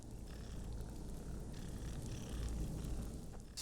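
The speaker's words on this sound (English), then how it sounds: "Just listen to him purr, man." A cat purrs in the Skyrim video game, a faint, continuous low rumbling purr with a steady rough texture and no talking.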